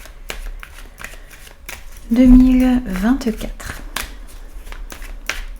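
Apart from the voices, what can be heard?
tarot cards being shuffled and laid out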